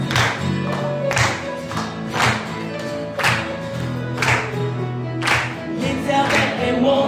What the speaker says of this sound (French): On applaudit pour notre Seigneur ce matin.